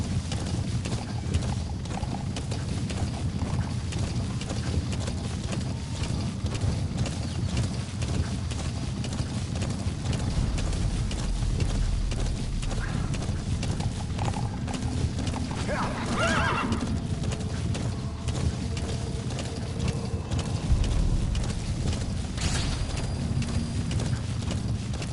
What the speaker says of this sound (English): Alright, so now we're gonna go with D-Horse on this particular mission.